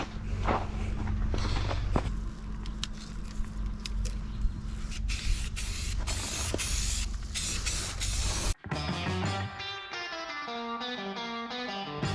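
Spray paint hissing from an aerosol can onto small tube-bead pieces hung on a string, a loud close continuous spray with brief pauses, giving way to music near the end.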